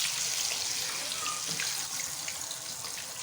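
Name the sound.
marinated fish dropped into hot oil frying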